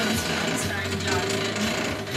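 A theme park ride at Universal Studios Hollywood gives off a loud, steady mechanical rattle that runs the whole time, close and dense, with a faint voice underneath.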